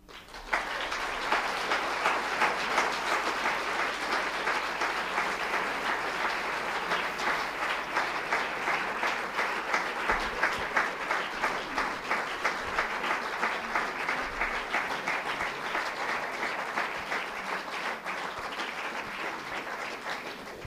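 A conference audience applauds a school principal's speech in long, sustained, even clapping that carries on for about twenty seconds, heard from a distance with little variation.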